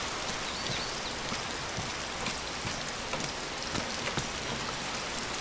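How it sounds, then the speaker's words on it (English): Steady rain falls in the survival video game DayZ, an even hiss of drops on surfaces with scattered individual patters, continuous and fairly close with no talk. "it's still raining"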